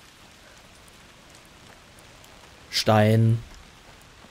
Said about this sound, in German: Mieser Regen.